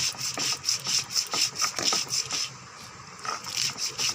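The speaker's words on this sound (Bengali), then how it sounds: "এখানে 2 4 6টা কাঁচা লঙ্কা আর কালো সরিষা নিয়ে ভালো করে একসঙ্গে আমি বেটে নেব" Green chilies and black mustard seeds are ground together into a paste, making a rhythmic, gritty rubbing and scraping that repeats in quick back-and-forth strokes, close and fairly loud, with no talking.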